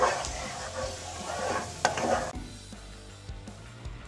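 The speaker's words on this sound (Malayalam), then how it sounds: "ഗ്യാസ് ഒരു മീഡിയം ഫ്ലെയിമിൽ വെച്ചിട്ട് നമുക്ക് ഇത് സാവധാനം ഇങ്ങനെ ഒരു നല്ലോണം ഇളക്കി ഇളക്കി ഇളക്കി അത് ഒരു നൂൽപ്പരുവാക്കി കൊണ്ടുവരണം" Jaggery syrup bubbling on a medium flame is stirred slowly, a soft sizzle with scraping strokes that fades partway through to quieter, sparse taps.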